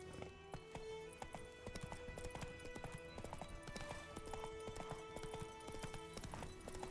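Horse hooves clip-clopping steadily in a video game, a continuous quick rhythm of faint hoofbeats over a constant background.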